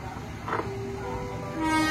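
A KRL commuter train departs platform 5 toward Gambir with a low rail rumble, and a sustained horn tone rises near the end.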